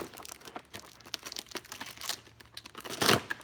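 Close crinkling, crunching and ripping as a badly taped, damaged cardboard box is torn open, irregular bursts ending in one louder tear.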